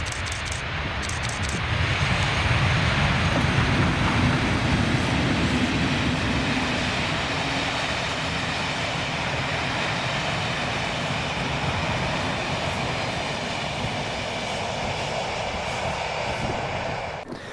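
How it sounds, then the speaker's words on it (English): Class 37 diesel locomotive 37521 leading an LSL private charter train in Scotland, rumbling past steadily with sustained engine throb and wheel noise for the whole pass, loud and close, fading slightly at the end. "the 1510 Arisaig to Alnmouth LSL private charter with 37521 leading"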